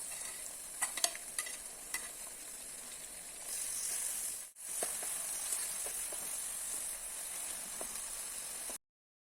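Four medium tomatoes go into onions frying in a pan: steady sizzling and hiss with scattered stirring clinks, a brief drop-out midway, then the frying resumes; no talking.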